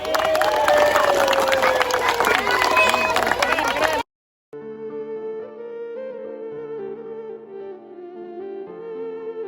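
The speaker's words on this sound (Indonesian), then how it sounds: "tepuk tangan dulu lah" A crowd at a children's school class performance in Purwakarta erupts with noisy cheering, shouting young voices and scattered clapping for about four seconds, then breaks off into a short silence before a sustained tonal sound begins.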